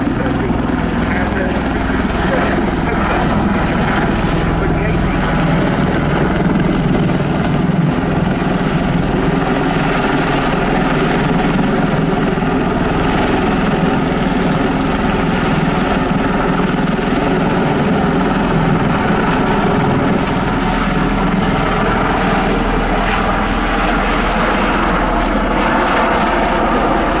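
A US Air Force Boeing CV-22B Osprey tiltrotor with small, high-RPM rotors flies at the Royal International Air Tattoo 2022, giving a loud, continuous throbbing drone throughout while a commentator talks over it.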